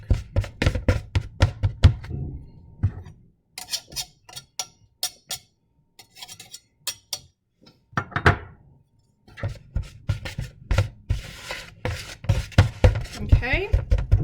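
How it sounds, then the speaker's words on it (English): Rhythmic tapping and chopping as a pastry cutter works butter into flour and dry buttermilk for biscuit dough, sharp close strokes in quick bursts with brief pauses between them. "So you just have to keep cutting and incorporating into all the flour and dry butter milk."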